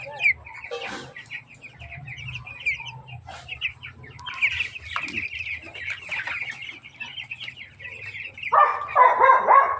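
Many broiler chickens cluck and squawk close by in a busy flock. A dog barks briefly and a few voices murmur under the birds.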